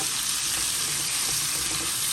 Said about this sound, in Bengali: আমি এটাকে একটু ভাজা ভাজা করে নিচ্ছি।